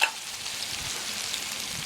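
Onions frying over high heat in about three tablespoons of olive oil in a pot on a propane grill, a soft steady sizzle and crackle at low level with no talking.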